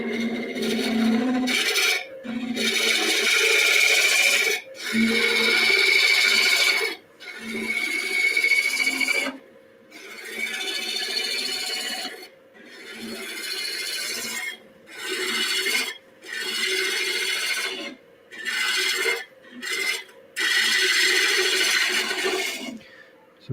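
A conker spun on a wood lathe gives long rasping scrapes as the tool cuts large shavings, steady cutting passes broken by short pauses, close and loud over a low motor hum.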